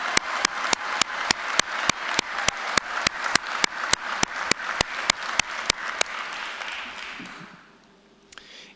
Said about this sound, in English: can I get one more round of applause for the new probationary firefighters from Class 13?